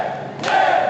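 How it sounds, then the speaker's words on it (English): A crowd at a wrestling match for a world championship roars steadily, with a surge of louder cheering partway through, dense and sustained throughout. "this crowd trying to will Nick back into this match"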